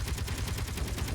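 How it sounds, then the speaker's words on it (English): Rapid gunfire from the space combat and vehicle game Space Engineers, a dense continuous rattle of shots at steady volume with no talk over it. "Oh, I see gunfire heading TFE's direction."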